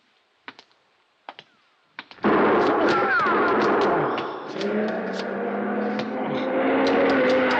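In an old-time radio detective drama, a few sharp gunshot cracks ring out, then a loud sustained burst of noise and commotion follows, full and close.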